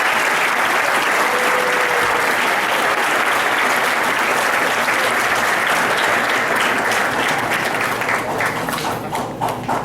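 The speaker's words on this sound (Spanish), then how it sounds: "Un aplauso muy fuerte." A crowd applauds at a high school graduation ceremony in Valencia, Venezuela, with loud, sustained clapping from many hands that continues evenly before thinning out at the end.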